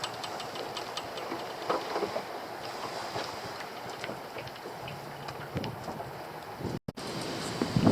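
Strong wind buffets a microphone outdoors near the water, with a steady rushing roar, scattered gusty thumps and a brief dropout near the end, and no talk.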